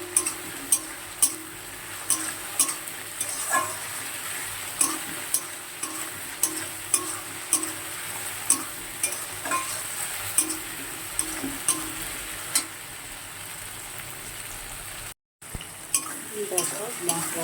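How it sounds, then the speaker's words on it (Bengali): Ginger-garlic paste and spice mix frying and being stirred in a pan for a paneer dish, steady close sizzle broken by regular scraping strokes of a spoon against the pan, with occasional utensil clinks. "দেখো মশলাটা মশলা কষানো হয়ে গিয়েছে"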